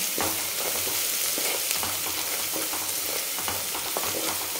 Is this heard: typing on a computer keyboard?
no